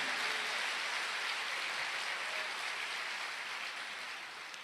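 Church congregation applauding, a steady wash of clapping heard from a distance that stays even and slowly fades toward the end, with no talking over it.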